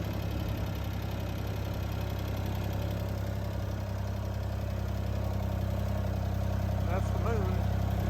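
A Ford 2600 tractor engine runs at a steady, continuous idle nearby, an unbroken low rumbling drone outdoors at night, with someone briefly speaking over it.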